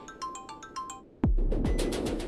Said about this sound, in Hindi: विजय, उसी का फोन है।